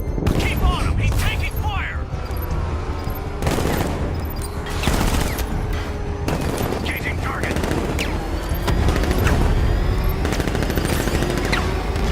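Bursts of automatic gunfire rattle repeatedly in Batman: Arkham Knight, loud volleys punctuated by heavier booms and mechanical clanks, with the battle raging continuously around a character under attack.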